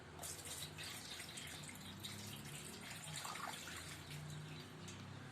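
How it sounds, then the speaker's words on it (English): Steady trickling and dripping water poured into a model house runs throughout, a continuous close splashing sound with no voices. "Ma'am, this is the water. I'm going to put water inside."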